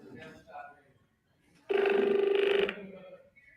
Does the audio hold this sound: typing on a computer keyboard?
no